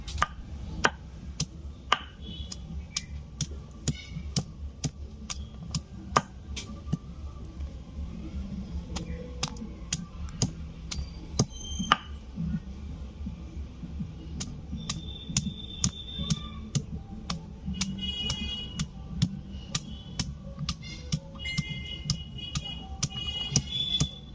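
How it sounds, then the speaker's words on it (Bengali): Ginger and garlic being ground into paste on a grinding stone, a run of sharp, regular knocking strikes with faint scraping between, close and clear. "আদা রসুনগুলো বেটে নিচ্ছি"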